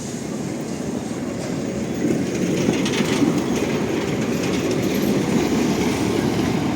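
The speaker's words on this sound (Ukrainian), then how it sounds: "Ще поспостерігаємо, як трамвайчик проїде." A tram rumbles past steadily on a street in Lviv, with a low, continuous roar and faint clattering of wheels on rails, filling the whole stretch without pause.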